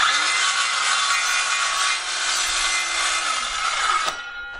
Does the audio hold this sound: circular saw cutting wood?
yes